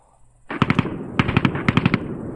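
Gunfire in the WW2 tactical shooter game Vanguard: Normandy 1944: after a quiet start, close, loud bursts of rapid automatic shots, about a dozen sharp cracks in quick clusters.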